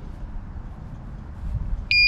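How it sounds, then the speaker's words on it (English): After quiet low rumbling, a single sharp electronic beep from a Cyrusher Kommoda e-bike lock sounds at the very end, loud and close. "I'll go ahead and lock the bike"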